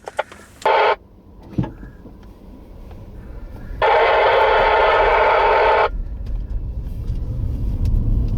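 Steady road rumble of a car in motion, with a brief burst of CB radio static near the start and a louder two-second blast of static midway.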